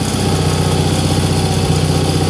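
An Air Horse aircraft tug with hydrostatic drive idles steadily, its small engine running a continuous even throttled drone, close and loud with no voices.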